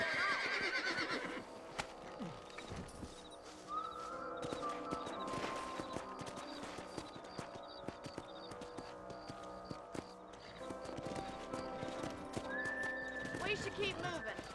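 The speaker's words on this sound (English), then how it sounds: "Let's get back on the horses and see what else is going on." Horses in the Red Dead video game neigh and whinny with steady clip-clop hooves as they ride, the whinnies standing out at the start and again near the end, all set against a busy in-game soundscape with voices.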